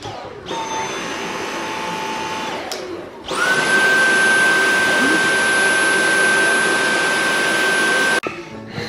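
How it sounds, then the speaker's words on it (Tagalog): A household vacuum cleaner drones steadily and loudly indoors, a lower motor hum shifting to a higher, louder whine partway through, then cutting off abruptly near the end. "Siya na lang talaga ang nag-vacuum."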